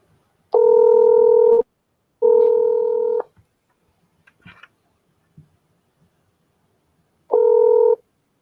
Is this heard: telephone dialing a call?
yes